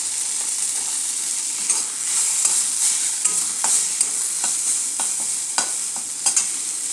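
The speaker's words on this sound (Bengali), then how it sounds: "অল্প পরিমাণে এরকম আমি ভেজে নামিয়ে নেব" Nalte greens frying in oil in a wok for a Bengali dish, a steady bright sizzle with repeated soft scraping and tapping strokes as the leaves are stirred, close and moderately loud.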